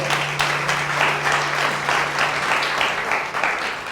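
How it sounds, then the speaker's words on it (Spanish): Audience at a health sector training talk applauding a speaker, a steady dense clapping that holds at even loudness throughout. "Un fuerte aplauso para nuestro expositor."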